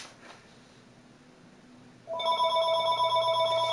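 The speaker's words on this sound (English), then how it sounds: "Sorry about the phone." After a quiet room stretch, a telephone suddenly begins ringing, a loud electronic tone with bright steady harmonics sustained to the end.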